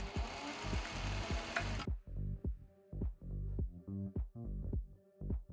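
A sewing machine back-stitches a caftan, its loud steady whirring run cutting off and giving way to a series of short, separate stitching bursts, close up with no talk.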